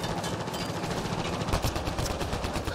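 Rapid sustained gunshots in a Mass Effect Andromeda firefight, dense and continuous over a loud mix of game noise, with no one talking.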